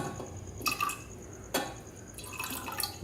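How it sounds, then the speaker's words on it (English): Distilled water being poured into a container while mixing a sodium hydroxide solution, a soft continuous trickle with a few brighter splashy bursts, close and alone without speech. "So let me top it off with a little bit of more water."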